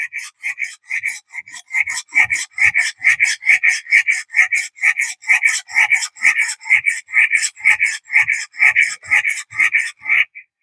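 A knife blade drawn over a knife sharpener, repeated rasping strokes in a steady rhythm, about three per second, close and crisp, with no talking.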